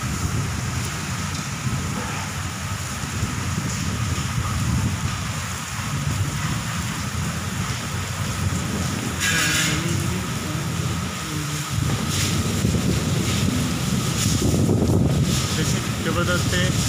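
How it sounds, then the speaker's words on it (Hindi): Heavy rain pours down in Udaipur while strong wind buffets the microphone in constant roaring gusts, with occasional louder bursts. "तेज हवाओं के साथ जोरदार बरसात हो रही है"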